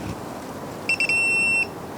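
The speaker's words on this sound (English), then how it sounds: "When I'm approaching it, it beeps, and then a constant beep." A digital torque wrench gives a few quick beeps, then a steady high-pitched tone lasting under a second, clear over quiet background noise.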